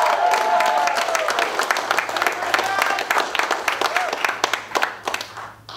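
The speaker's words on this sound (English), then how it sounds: "Let's give him a huge round of applause." An audience claps for a grand prize winner at a giveaway event, dense applause fading to scattered claps, with a voice talking over it near the start.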